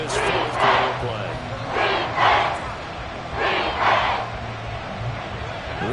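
Stadium crowd in Madden 24 cheering during a fourth-quarter Browns goal-line drive, a steady roar that swells in several waves over a low murmur, with chanting-like surges.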